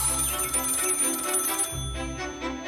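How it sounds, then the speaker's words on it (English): A telephone rings in a bedroom on the morning after a night of despair, a steady bell-like tone sounding loud and close over a continuous backing of music. "the phone rang."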